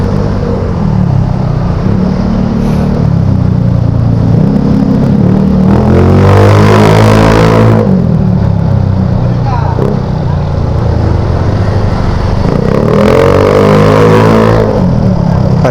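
Steady road traffic rumble heard while riding near Paliparan, Dasmariñas, Cavite, with loud engine drone and vehicles passing close around 7 and 14 seconds, continuous and near throughout.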